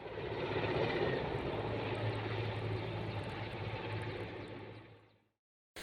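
Helicopter flying over a forest fire near Edirne close to the Bulgarian border, its steady rotor and engine drone loud and continuous, ending abruptly before a brief restart of the noise.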